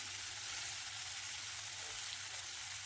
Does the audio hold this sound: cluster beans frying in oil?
yes